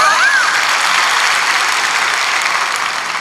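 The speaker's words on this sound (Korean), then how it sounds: "큰 박수." Loud, sustained applause from a large congregation at a church worship service, steady dense clapping throughout with a brief whistle-like tone near the start.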